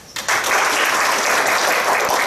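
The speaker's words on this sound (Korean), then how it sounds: "큰 박수와 함께 소개하겠습니다." Audience applause at a Korean civic forum on peace and reunification, welcoming a guest speaker: a sudden burst of many hands clapping that starts after a brief quiet moment and holds steady and dense, filling the room.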